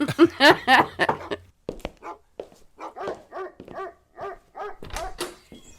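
A dog barks in a rapid series of loud, close yaps and woofs, with short gaps between bursts and no voices.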